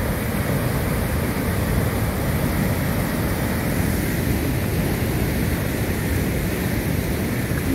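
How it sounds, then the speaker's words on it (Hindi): Floodwater of an overflowing river rushing past in a broad, continuous roar, steady and unbroken with no voices over it. "ये देखो ये दरिया का पानी, लाबी रेला बहुत ज़्यादा पानी दोस्तों आ रहा है"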